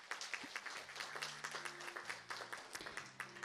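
An audience at an international symposium on Hwaseong Lake claps for a speaker; the quiet, scattered claps come in an irregular patter over a faint steady hum, without talk.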